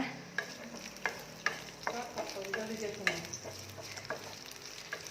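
Onion frying in shallow oil for kadai paneer, with capsicum and peas in the mix, gives a soft continuous sizzle under repeated sharp scraping and tapping of a spatula against the pan, close but moderately quiet.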